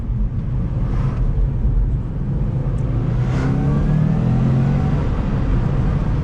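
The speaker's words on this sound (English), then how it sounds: "Oh my days, that is some nice torque feeling. Traction with the all-wheel drive. What else do you want? This EJ20 bad boy, nice motor." Subaru WRX STI with an EJ20 engine and all-wheel drive accelerating on a road in Japan, a loud, steady low engine drone rising gradually in pitch, heard from inside the car.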